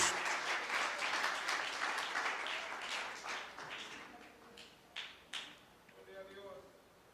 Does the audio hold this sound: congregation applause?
yes